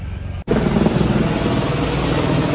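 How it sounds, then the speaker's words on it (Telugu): A helicopter's steady, loud rotor-and-engine roar fills the air after a brief cut, continuous and droning as it passes overhead near the Atlantis hotel parking area on Palm Jumeirah. "పైన హెలికాప్టర్ పోతుంది చూస్తురా"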